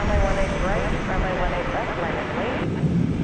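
A UPS Boeing 757 jet departs DFW Airport, its engines roaring loud and near with a wavering whine, while voices talk over the noise.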